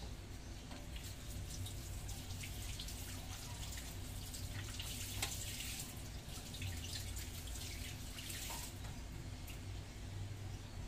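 Tap water running into a pot set up for boiling in a home kitchen, a steady splashing stream with occasional drips, continuous and fairly faint with no talk.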